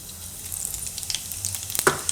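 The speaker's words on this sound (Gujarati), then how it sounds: "આ આપણે તેલ ગરમ થઈ ગયું તો એમાં થોડુંક જીરું નાખશું વઘાર માટે" Cumin seeds sizzling in hot oil for a tempering, a light crackling fizz with small pops scattered through the short stretch and one sharper spit near the end, with no talk.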